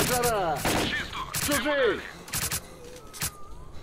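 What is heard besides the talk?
gunfire in video game S.T.A.L.K.E.R. Clear Sky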